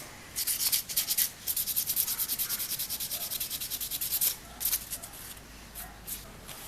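Wood hand-sanded with 220-grit sandpaper on a cabinet leg: a steady run of quick, close rasping back-and-forth strokes, loud and regular, easing off near the end.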